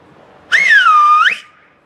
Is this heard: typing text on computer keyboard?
no